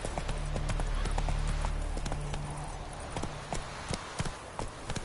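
Horse hooves gallop at a steady, rapid clip-clop in The Witcher III, loud and close over a low rumbling ambience, the beat loosening toward the end.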